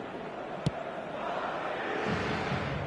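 Football crowd in the eFootball video game: a broad, sustained stadium roar that stays fairly even and swells slightly toward the end, with one brief sharp tap early on, and no distinct voices over it.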